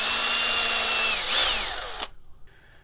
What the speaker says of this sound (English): Just drill in a little bit more.